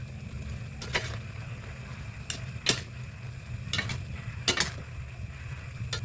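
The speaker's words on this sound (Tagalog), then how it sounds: "Halo-haloin lang para ma-well combine ang sauce" Chicken tossed in sweet and sour sauce in a pan, with a quiet simmer underneath and a few sharp scraping and clinking strokes of a spoon at irregular intervals.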